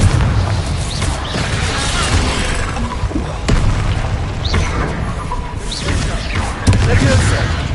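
A Confringo blasting spell from Hogwarts Legacy erupts in loud, booming explosions, several bursts and crashes hitting in succession over a dense background of battle noise.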